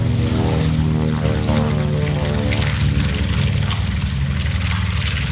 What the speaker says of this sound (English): B-25 missile taking off.